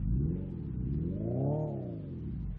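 Hyundai Ioniq 5N electric car playing its simulated engine sound with fake gear shifts: a close, moderately loud synthetic engine note rising in pitch, peaking, then falling away as if shifting, with no talk over it.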